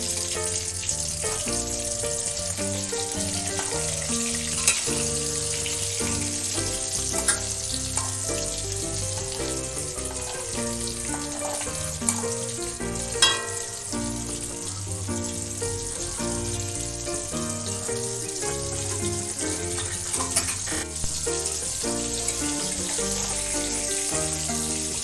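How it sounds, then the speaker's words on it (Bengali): Kolkata-style prawn cutlets made from golda chingri fry in oil over low to medium flame, giving a continuous dense sizzle and crackle with occasional louder pops throughout, no voices. "ভালো করে গোল্ডেন কালার করে ভেজে নিয়েছি"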